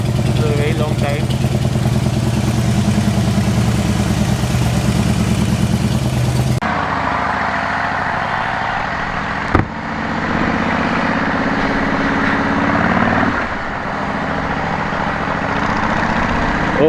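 A Harley-Davidson Fat Boy's V-twin runs close by with a deep, throbbing idle that shifts to a quieter, lower rumble partway through, with one brief sharp knock and someone talking over it.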